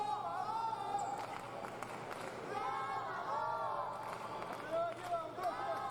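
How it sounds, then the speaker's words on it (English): A fencing crowd chants the name Llavador in a steady rhythmic cadence, a dense mass of voices with clapping and arena murmur, carrying on continuously at moderate volume. "Crowd chanting Llavador, Llavador."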